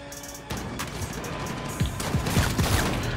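Shotgun gunfire in an online shooter game, with several booming blasts in quick succession over a dense wash of game noise and mechanical clatter, loud and close.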